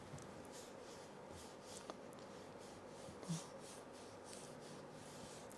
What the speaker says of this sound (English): Can you hear me scraping against the paper? That means my brush is dry.